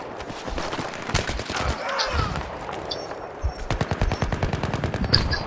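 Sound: gunfire in the video game Battlefield 3

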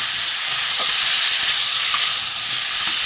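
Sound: sautéing vegetarian curry in a pan

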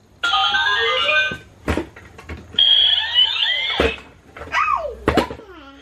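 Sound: toy piggy bank playing loud Christmas music

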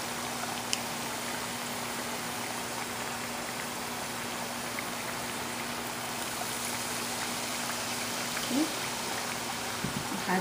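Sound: hands being washed under running water

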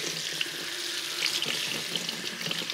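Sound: water running from a faucet

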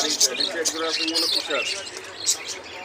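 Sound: yellow lovebirds chirping at a bird farm

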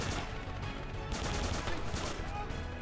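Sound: machine gun fire in a WW2 first-person shooter video game

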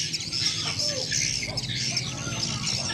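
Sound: swiftlet lure call from speaker

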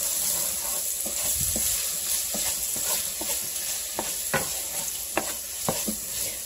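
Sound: stirring onions frying in a pan

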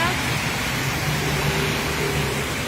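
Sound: rain falling in Ekkamai, Bangkok

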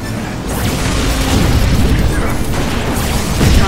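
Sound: satellite laser strike explosions in Cars 2 video game

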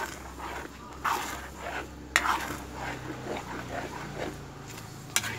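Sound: stirring dinuguan (pork blood stew) in a pot

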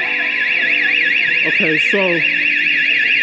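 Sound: building alarm triggered

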